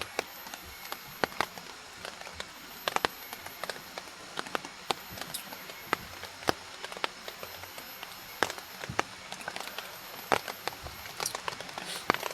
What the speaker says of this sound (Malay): Hujan balik, tadi dah berhenti, ni hujan balik.